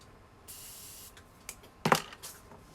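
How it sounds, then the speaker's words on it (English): A short hiss of a spray bottle misting a makeup brush, followed moments later by a sharper, louder spritz burst; quiet background otherwise, no talking. "So I'm going to spray this brush here."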